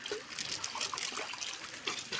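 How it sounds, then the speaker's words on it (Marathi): Mountain stream water trickles down from forested hills in the Konkan on its way to a river, a faint, soft, continuous babble of water with no voices. "पाणी त्या तिथनं इथं खाली येतं आणि ते बाव नदीला जातंय."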